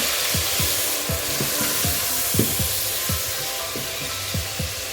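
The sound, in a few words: tomato cooking in pan for Kenyan chicken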